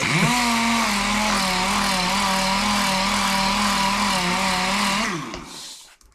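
An air-powered dual-action sander runs on a chain case panel, a loud, close, steady droning whine held for about five seconds before it quickly winds down and stops, with no talking over it.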